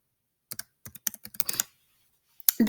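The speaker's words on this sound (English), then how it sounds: "in the box, I'm going to type in my answer." Short bursts of computer keyboard typing, close and clear, with separate key clicks in quick clusters and a brief pause before a final flurry.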